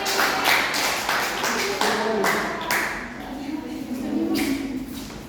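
A group claps in uneven bursts, some sharp and others scattered, while voices talk over the clapping nearby, during a classroom teaching practice session with children.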